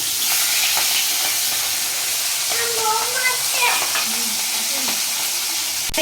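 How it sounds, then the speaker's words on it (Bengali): Hilsa fish heads fry in hot oil with a constant loud sizzle, and scraping and clattering rise briefly as they are flipped over in the pan. "আমি অপর পিঠে উল্টে দিচ্ছি"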